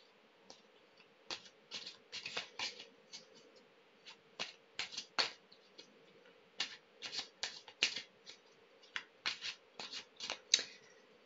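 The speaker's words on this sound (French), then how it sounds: "nous allons tirer les cartes de tarot, donc toujours avec mon tarot Téléma" Téléma tarot cards shuffled by hand on a table, a long series of quick crisp riffling bursts at uneven intervals, close and fairly quiet against a silent room.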